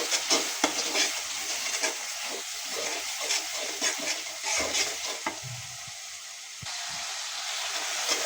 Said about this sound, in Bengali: খুব ভালোভাবে কষায় নেব